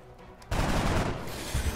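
A weapon shot fired at a thin man alien in the video game XCOM Enemy Unknown: a loud, sustained burst of fire breaking abruptly from quiet, then trailing off with rumbling.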